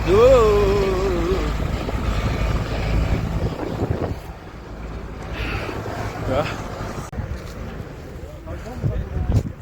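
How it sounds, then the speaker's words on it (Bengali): Strong wind buffets the microphone at Khardung La mountain pass, a loud, steady roar that swells and eases across the whole stretch, with a voice heard briefly near the start. "প্রচন্ড হাওয়া হয়েছে।"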